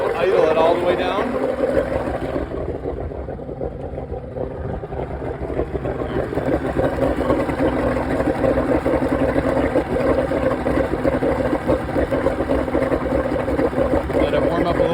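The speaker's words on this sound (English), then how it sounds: "All right, so now engine running. Idled up a little bit here." A Mariner 150 hp outboard engine on a 1997 Fisher Freedom 200 deck boat idles slightly above its lowest setting, holding a steady, close, continuous drone throughout.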